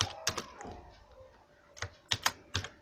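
Code is typed on a computer keyboard in bursts of crisp, close key clicks separated by short pauses, quiet and alone.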